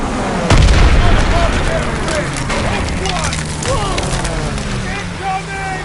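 Mortar fire in a Call of Duty battle: a heavy boom hits early, followed by rumbling blasts and crackling debris, with whistling tones and shouted voices layered over the chaotic din.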